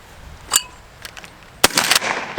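Winchester 97 pump shotgun fired in quick slam-fire succession, a sharp report followed by a burst of several rapid blasts close together, loud and outdoors.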